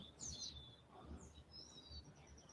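Birds chirp in a backyard, several short bright tweets and calls from a little distance, soft against a quiet outdoor background.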